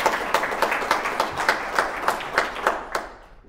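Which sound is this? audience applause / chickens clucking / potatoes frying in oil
audience applause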